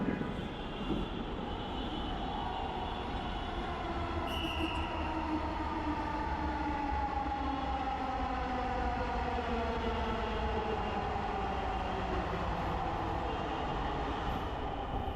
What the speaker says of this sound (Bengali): এই চলে আসছে, আমরা এখন উঠবো ট্রেনে।